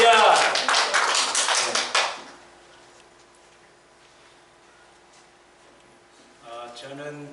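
A church congregation claps together in a quick, loud burst lasting about two seconds, then near silence with a faint hum, before a voice speaks briefly at the end.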